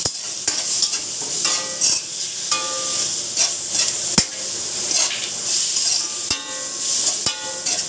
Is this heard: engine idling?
no